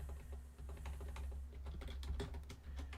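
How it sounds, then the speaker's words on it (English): Rapid typing on a computer keyboard during a livestream, steady clusters of soft key clicks over a low constant hum, close and moderately quiet with no talking. "I'm typing this as a chat poll."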